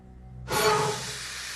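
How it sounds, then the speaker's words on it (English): In a film scene aboard a ship, a sudden loud burst of escaping steam hisses out after a brief quiet moment, then fades gradually into a softer, lingering hiss. "Sounds like steam escaping."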